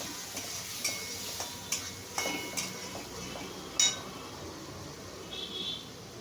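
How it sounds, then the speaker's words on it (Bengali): A spoon stirring turmeric and Kashmiri chili in a cooking pan, with a soft sizzle underneath and a series of sharp metallic clinks and scrapes at irregular intervals, close by and fairly quiet. "এই হলুদ দিচ্ছি আর এই কাশ্মীরি লঙ্কা দিচ্ছি, দিয়ে আমি নেড়ে নিচ্ছি।"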